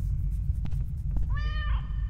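A cat meows once in the horror video game Stairway 7, a clear mid-length call rising above a heavy low rumbling background, with faint clicks just before.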